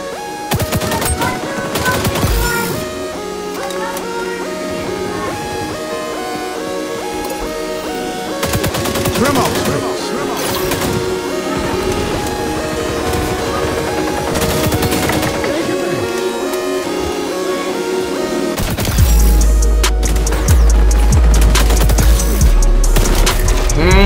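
AK rifle fire in the shooter video game XDefiant, with bursts of rapid automatic gunshots and booms over game music and effects, mixed with a player's voice.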